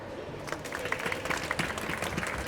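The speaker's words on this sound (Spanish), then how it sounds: "y aplaudir" An audience applauds after a panel talk at a stand on jury trials in Argentina, a faint, dense patter of clapping under steady room noise.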